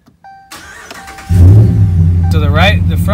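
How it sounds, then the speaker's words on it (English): A truck engine cranks and starts, then settles into a loud, steady close-up run after a short clicking lead-in, with a voice speaking briefly over it. "Let's start the truck."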